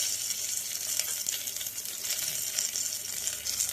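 Pepper, cumin and coriander sauté in a hot pan for tomato rasam, giving a continuous close, even sizzle with no talking.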